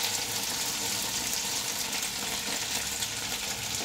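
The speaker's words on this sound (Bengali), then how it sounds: "আলুটা একটু ভাজা হোক, বেশ আঁচ একদম বাড়ানো আছে।" Potatoes frying in a pan over fully raised heat give a continuous close hiss and sizzle with faint crackles, steady throughout and without talk.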